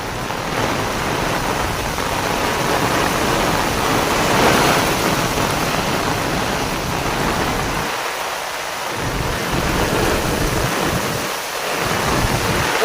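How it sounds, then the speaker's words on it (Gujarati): Heavy rain pours down during a windstorm in a steady, loud roar, with deep rumbles of thunder rolling through it; no one speaks. "જોરદાર ખાટકા ને વીજળી પડે છે"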